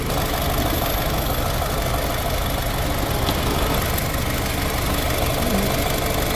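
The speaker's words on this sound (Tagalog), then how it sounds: "Stable and fine naman po yung idling." A 2016 Honda City automatic idles close by with a steady, even engine rumble and hum throughout, loud and unbroken, with no voices over it.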